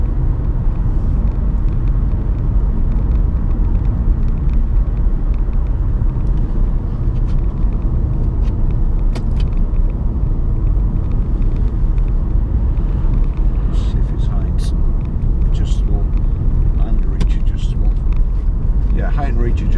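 A Peugeot 3008 1.6 e-HDi diesel SUV cruises at about 70 mph on a motorway. Loud, constant cabin rumble of road and engine noise, with occasional brief higher-pitched knocks.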